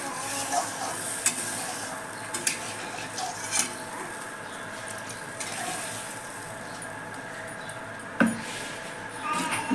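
Spice paste being stirred and fried in a pot with a steady soft sizzle, broken by occasional clinks and scrapes of a spoon against the metal.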